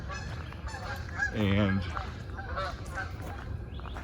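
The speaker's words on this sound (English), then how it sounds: "Oh, listen to the geese." Geese honking at a nature preserve, a loud burst of calls in the middle over steady outdoor background, with a person speaking briefly.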